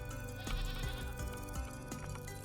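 Goats in the video game Vintage Story bleat repeatedly over a dense, steady bed of game music, several wavering calls rising one after another across a couple of seconds.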